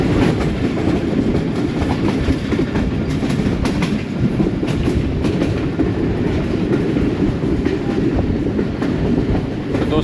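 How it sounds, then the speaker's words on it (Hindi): A Subak Raftar railcar runs toward Rawalpindi, a loud steady rumble of wheels on track with faint rhythmic clatter throughout. "हमारी ट्रेन रावलपिंडी शहर में दाखिल हो रही है"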